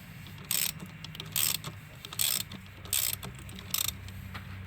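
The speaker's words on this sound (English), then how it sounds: "This side over here, I'm using a long extension and a swivel." A ratchet on a long extension and swivel loosening a stubborn, Loctite-coated bolt near the transmission cooler of a 2013-2016 Ford Escape, giving five close, distinct bursts of clicking pawl ratcheting with short pauses between.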